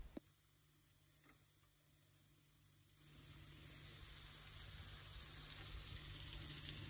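Carrots and beans drop into a hot spiced pan, and a quiet early sizzle turns into a louder, fuller crackle that keeps going steadily to the end, with no talk.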